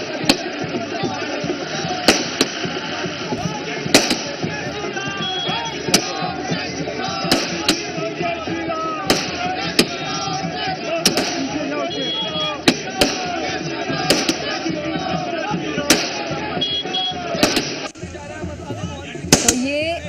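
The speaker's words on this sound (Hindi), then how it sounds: "आतिशबाजी की आपने आवाज सुनी, आतिशबाजी हो रही है" Fireworks burst in sharp, loud cracks every second or two over a continuous crowd roar at a BJP election victory celebration in Delhi, the bangs irregular and close.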